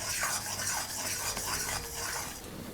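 A spoon scrapes and stirs a thickening gulkand barfi mixture of sugar in a pan on the stove, soft repeated scraping strokes over a faint sizzle, quiet and close with no speech.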